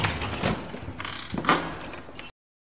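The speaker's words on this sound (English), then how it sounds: "But when they opened the door" A door opens in a children's story, heard as a short wooden rattle and a sliding, creaking sweep with a faint clunk, close and fairly quiet, cutting off abruptly.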